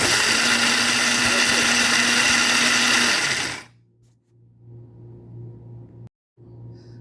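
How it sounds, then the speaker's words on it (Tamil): A mixer grinder whirs loudly at high speed, grinding roasted ingredients into idli chilli powder, then cuts off abruptly partway through, leaving a low residual hum and faint rattling. "ஆற வச்சுட்டு மிக்சியில் போட்டு அரைச்சிட்டு நான் உங்களுக்கு காமிக்கிறேன்"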